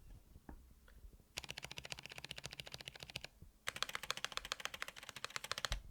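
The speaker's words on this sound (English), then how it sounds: "So now you're going to hear some spring ping when I test the mods." Fast bursts of typing on a budget mechanical keyboard, either a Monokei Standard or a Tiger 80, two dense runs of close, crisp key clacks separated by a brief pause, with no talking.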